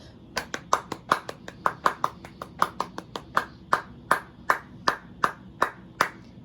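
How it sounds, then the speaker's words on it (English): Quick, steady hand claps in a sixteenth-note pattern, each sharp clap clearly separated and close by, moving through a fast repeating rhythm for several seconds. "See if you can clap with me starting here"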